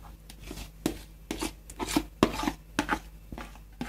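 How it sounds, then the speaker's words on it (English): Dressing is tossed through an egg and bacon salad with a utensil, giving a run of close, soft scraping and squishing strokes in an irregular rhythm, with occasional sharper clicks against the bowl. "Now just mix it through well until it's nice and evenly coated."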